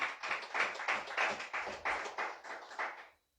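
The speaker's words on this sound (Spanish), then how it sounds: "Dele fuerte aplauso al Señor, hermano." A congregation claps during a Spanish-language church sermon, a soft, slightly distant patter of many hands pulsing in a quick, uneven rhythm for a few seconds before fading out.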